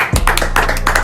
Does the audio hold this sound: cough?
no